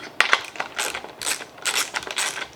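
A socket ratchet clicks in short bursts while cranking down a guitar side bending roller, the pawl giving quick close ticking runs with brief pauses between strokes.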